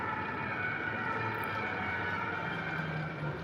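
Ambulance and police sirens wail steadily along a city street, a continuous, fairly loud tone holding over traffic noise throughout.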